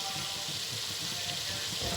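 Water is poured into a cooking pot of potatoes and meat for aloo gosht curry, making a steady, close rushing splash that runs for the whole moment.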